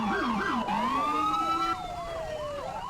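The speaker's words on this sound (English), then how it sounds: "This NYPD siren absolutely just dominates." An NYPD police siren in the Roblox game Coastal Heat wails loud and close, with fast yelping sweeps that give way to slower rising and falling wails, and a second siren tone mixed in.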